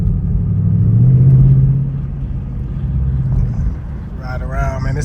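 A 2025 Ford Mustang GT driving at night pulls hard, giving a loud, deep engine rumble that swells and then settles into a steady drone, with a brief voice near the end.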